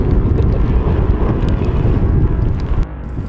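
Strong wind with snow buffets the microphone in a loud, continuous roar on open water on a fishing boat in a Norwegian fjord, easing slightly near the end.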